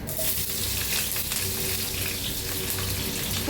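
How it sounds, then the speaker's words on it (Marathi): Cumin and mustard seeds sizzling in hot oil, a steady hissing crackle that holds evenly throughout with no speech. "चांगलं गरम झाले, त्याच्यात एक चमचाभर जिरं मोहरी टाकूया, चमच्यात जिरं टाकूया, हिरव्या मिरच्या"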